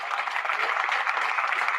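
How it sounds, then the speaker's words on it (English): Congregation clapping hands in praise at a church service, a dense, steady burst of applause from many people, moderately loud and close, with no voices over it. "give the Lord a hand clap of praise."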